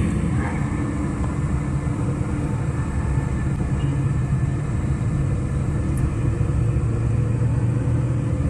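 Steady road traffic of trucks and vehicles along a busy national highway in town, a continuous low rumble of engines and tires at moderate distance, with no talk.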